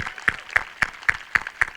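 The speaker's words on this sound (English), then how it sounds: "Give yourselves a round of applause, guys. Big round of applause." An audience at a university Madibaz Day event at NMMU claps in a steady, evenly spaced rhythm. About six sharp, unison claps fall over a soft background hum.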